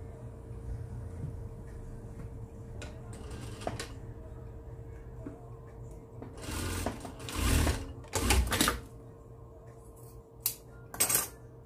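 A sewing machine stitching the hem of a long shirt during an alteration, a steady low mechanical whir with a faint hum, then louder bursts of rapid stitching and clicks from the fabric handling near the end.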